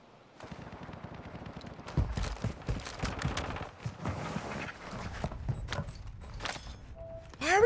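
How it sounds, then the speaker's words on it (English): Footsteps in the Warzone 2 battle royale game, a run of irregular thudding steps, some heavy and close, mixed with clattering game noise and ending in a sharp louder burst. "Strangely enough, I hear footsteps, and I don't know why."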